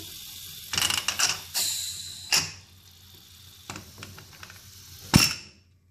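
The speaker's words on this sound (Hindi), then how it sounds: "अब जो ये हमारा गोश्त और आलू सब इसमें पक चुका है मैं इसका ढक्कन खोल देती हूँ" Metal clinks and scrapes as the lid comes off a pot of cooked meat and potato gravy, a few sharp close knocks and rattles spread over several seconds with a soft sizzle and quiet pauses between them.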